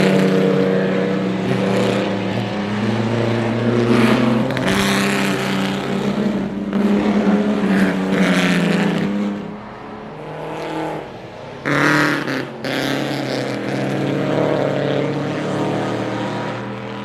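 Vintage pre-war racing cars, including ERAs, in the Goodwood Trophy race at the Goodwood Revival circuit, engines roaring past loudly with rising and falling passes, one car after another, with a brief lull before more arrive.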